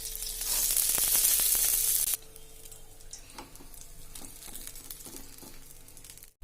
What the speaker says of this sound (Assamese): মাছ ভাজা হোৱাৰ পিছত মই শুকান জলকীয়াকেইটা দি দিছোঁ ইয়াতে আৰু লগতে দি দিছোঁ মই এই জিৰা গুটিকেইটা